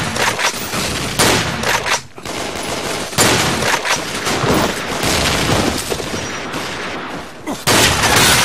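Bursts of gunfire and explosions from a Run and Fire first-person shooter, loud and dense, with rapid repeated blasts and a short gap before more heavy bangs.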